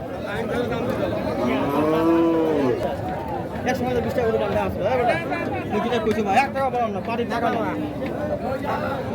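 Cattle bellowing at a busy rural livestock market in Faridpur, with several long moos rising over constant crowd chatter and bargaining voices.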